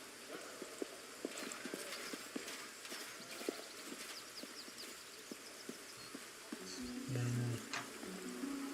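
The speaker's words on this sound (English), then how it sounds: "And we got horses." Horses' hooves clip-clopping in a steady walking rhythm, faint and somewhat distant, with insect-like ambience and a low voice or tone near the end.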